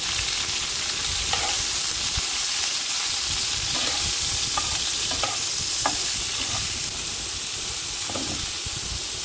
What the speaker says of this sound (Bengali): সামান্য একটু লবণ আর একটু হলুদ দিয়ে পটল ভেজে নেব